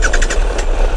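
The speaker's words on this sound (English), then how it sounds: "Such a smooth engine." Triumph Tiger adventure motorcycle, only 36 miles on it, engine running loud and close from on board, with a steady pulsing throb.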